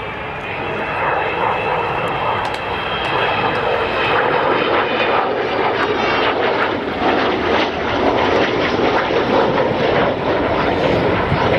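Avro Vulcan bomber making a flying display at RIAT 2015, a loud, continuous broadband engine roar that holds steady throughout and rises slightly, with no talk over it.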